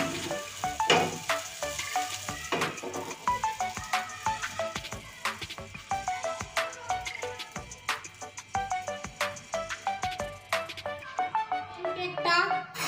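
Egg pancake batter sizzling in a pan as it is spooned and swirled around, a steady crackling fry with light clinks throughout, continuous and close.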